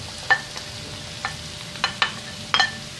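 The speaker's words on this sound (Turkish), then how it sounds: "Biraz kavrulan soğanlarımı şimdi doğramış olduğum kabaklarımı ilave ediyorum." Zucchini and onions cooking in a pan, with a soft steady sizzle and a few scattered sharp clinks and scrapes of stirring, close and fairly quiet, no talking.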